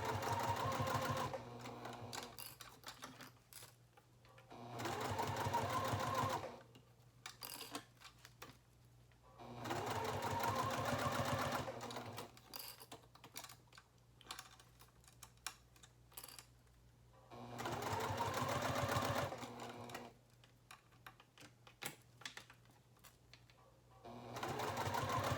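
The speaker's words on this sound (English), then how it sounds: "We're backstitching here." A sewing machine stitches a coin purse card holder in bursts of rapid mechanical whirring, with three or four backstitching runs separated by quiet pauses, close and steady.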